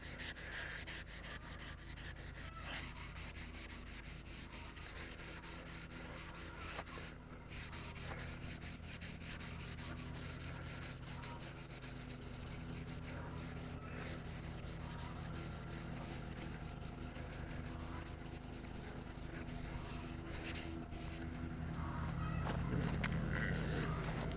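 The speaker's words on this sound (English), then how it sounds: "we're just sanding all the way" Parts of an IH 504 tractor are sanded by hand in a continuous, even rasping scrub. It stays close and fairly steady for the whole stretch and grows a little louder near the end, with no talk.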